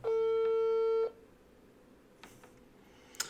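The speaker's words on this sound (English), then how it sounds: "It is not a good sounding dial tone at all." A steady electronic telephone dial tone sounds loud and close for about a second, then cuts off, leaving quiet room noise with a few faint clicks.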